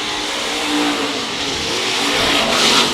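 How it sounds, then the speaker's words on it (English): Race cars run on the Heart O Texas Speedway oval, a continuous loud engine roar that swells slightly as the field passes close by. "the 65 car having a hard time staying straight, Marcus. Even on the straightaway."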